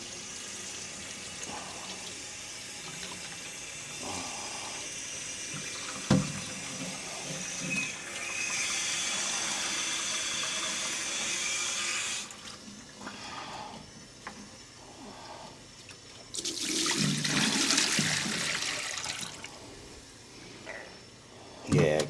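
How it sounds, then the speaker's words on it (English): Water gushes as an aircraft lavatory honey pot on a Cessna CJ3+ is rinsed out through an open knife valve. The splashing is steady, close and loud, with surges and mechanical clunks, and people talk over it. "We're gonna open this knife valve and really rinse this thing out good."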